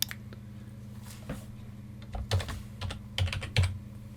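Quiet, close typing on a computer keyboard, scattered key taps in small irregular clusters over a low steady hum.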